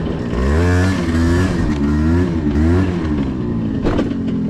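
A 50cc scooter engine revs in repeated rising and falling surges, loud and close, with a raspy two-stroke buzz between throttle blips.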